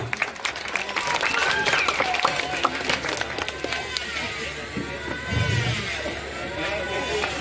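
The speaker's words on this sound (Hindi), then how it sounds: "ताली बजाइए, ताली।" Crowd applause at an outdoor political rally in Bihar, continuous clapping from a gathered audience, blended with a voice over loudspeakers and some background traffic noise.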